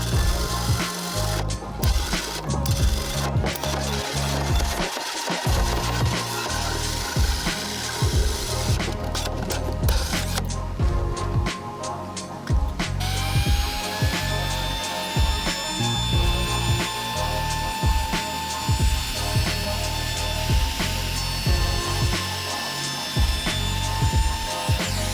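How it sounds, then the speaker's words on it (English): A 6-inch hole saw cuts a hole in a wooden cornhole board, giving a continuous, loud grinding and rasping with ringing tonal whine, choppy at first and steadier in the second half. "I use a 6-inch hole saw because I make these boards often."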